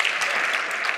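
A brief burst of audience clapping, dense and even across its short length, fills a talk venue with no voice over it.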